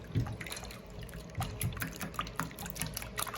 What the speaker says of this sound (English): And we'll add 1 cup of milk.